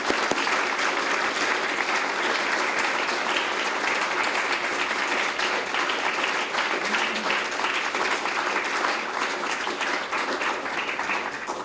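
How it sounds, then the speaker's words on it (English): A lecture audience gives a long, steady round of applause as a professor comes to the stage, dense clapping holding at an even level throughout. "Let's invite Professor Bresson to the stage with a round of applause"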